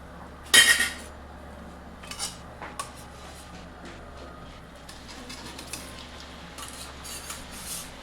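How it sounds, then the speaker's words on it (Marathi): Fried maida and mung dal chakli are lifted from hot oil onto a plate, with one sharp metallic clink followed by lighter scattered clinks and scrapes over a low background hum. "आता या ताटामध्ये काढून घेते साईडला आणि दुसरं टाकून घेऊ"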